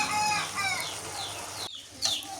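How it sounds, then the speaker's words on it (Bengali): Chickens clucking and squawking up close, a busy run of sharp calls over about two seconds, broken by a brief pause before another squawk. "এই মুরগিগুলো কি পাইছে রে খাবার দিছি তাও এরকম করে"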